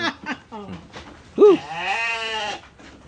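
Goats bleat close by on a farm, one loud wavering cry following several shorter calls, with a little background noise.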